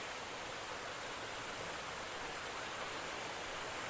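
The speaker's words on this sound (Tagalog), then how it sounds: "Napakaganda yung falls dito." A clean mountain waterfall roars as steady, even broadband rushing water, continuous and fairly close, with no voices.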